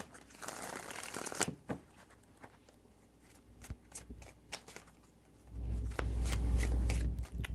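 Tarot cards are shuffled by hand in quick papery riffles and soft slaps, several separate bursts close by, ending in a longer, fuller shuffle.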